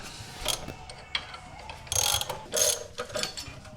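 Puller tool working against the timing chain cover on a Jeep YJ 2.5L four-cylinder engine, giving a close series of metallic clicks, ratcheting and scraping with sharper bursts of clanking near the middle, no one speaking.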